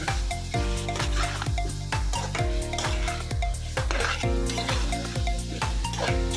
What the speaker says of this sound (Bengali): নাড়িয়ে ভাজা ভাজা করে নিব।